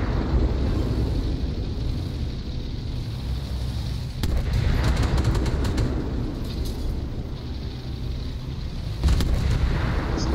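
Heavy tank cannon shots boom out in the Armored Warfare game during Operation Hydra, with a couple of loud, sharp blasts standing out over a steady rumbling battle ambience, no talking.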